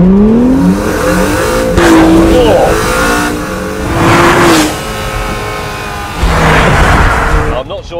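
A Honda NSX hybrid in track mode does a launch-control start at full throttle, its engine roaring loud and close, climbing in pitch through several gear changes with brief dips between pulls.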